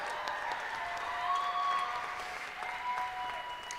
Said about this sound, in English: A round of applause for Del.